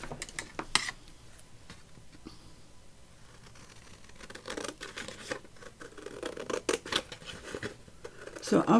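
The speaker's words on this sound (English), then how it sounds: "let's cut that out of there." Scissors snip through a paper tag on a desk in a series of short, close crisp cuts and rustles, with quiet pauses between and louder snipping toward the end.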